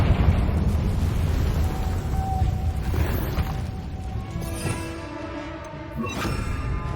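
A Confringo fire spell erupts in Hogwarts Legacy, a loud, sustained booming blast with rumbling fiery roar that tails off over several seconds before a brief sharper burst near the end.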